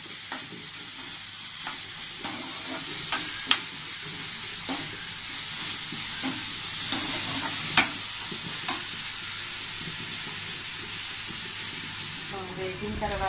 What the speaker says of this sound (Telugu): ఉల్లిపాయలు గోల్డెన్ కలర్లో వచ్చే వరకు వేగించుకోవాలి